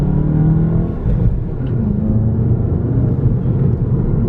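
A Volkswagen GTI Rabbit Edition, tuned to about 320 wheel horsepower, cruises through Austin, Texas, its engine a steady low hum and rumble with mild rises in revs.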